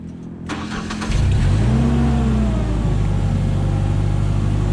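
A Ford LRG 425 engine on a Genie S40 boom lift cranks briefly, then catches and settles into a steady, smooth, loud idle close by.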